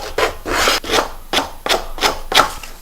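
Open scissor blade scraped along paper edges for a mini album in a keepsake box, giving six short dry rasping strokes in a steady back-and-forth rhythm, close and fairly loud with no talk.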